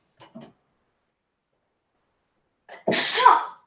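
A single sharp sneeze bursts out near the mic after a short silence, preceded by a faint intake of breath.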